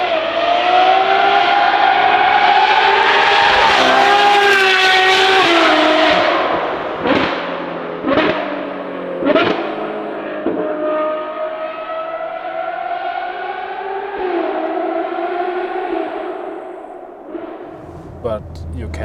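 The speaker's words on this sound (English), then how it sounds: "So this car has the most stunning, perfect sound what you can imagine." A full-carbon Novitec Ferrari 812 N-Largo S with a V12 engine drives close by. Its loud, sustained howl rises and falls through sharp revs and gear changes, then eases toward the end.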